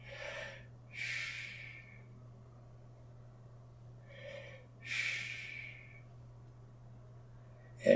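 During a seated chair exercise, a person takes two relaxed breath cycles up close, each a quick inhale followed by a longer, soft, airy exhale, over a low steady hum.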